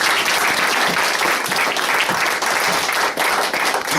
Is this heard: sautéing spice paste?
no